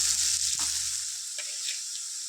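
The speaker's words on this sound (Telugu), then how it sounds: "ఒక టెన్ మినిట్స్ ఫ్రై చేసుకుందాం" Capsicum curry frying in a pan with onion: a steady, hissing sizzle runs throughout, close and fairly loud, with a few soft stirring knocks and no talking.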